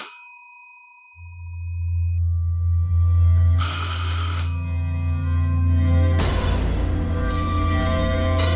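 Telephone ringing unanswered indoors, a warbling electronic ring that starts after a brief quiet and repeats in loud sustained bursts with brief gaps, no one picking up.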